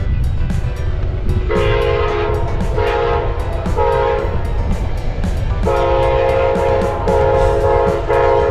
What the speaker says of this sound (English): Double P-42 Genesis locomotives.